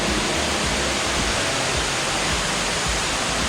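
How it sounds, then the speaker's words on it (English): An underground waterfall inside Ruby Falls cave in Chattanooga, Tennessee, roars as a steady, full, unbroken rush of falling water, heard alone with no pauses. "You see waterfall right there, see it?"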